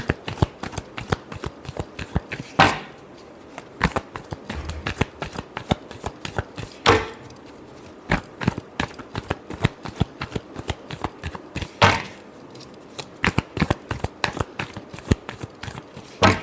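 Tarot cards are shuffled again and again, with quick crisp riffles and taps in an uneven rhythm and louder slaps every few seconds, close and clear.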